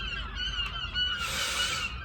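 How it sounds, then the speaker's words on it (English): Geese honking loudly all around, a dense overlapping chorus of harsh calls filling the whole stretch, close and continuous with no voices. "I'm in the middle of the birds."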